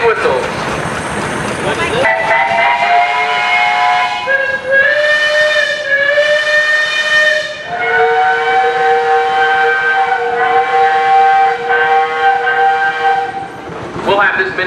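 Steam traction engine whistle at an outdoor steam show, sounding several long, loud, steady blasts with brief breaks between them, with a short final toot near the end.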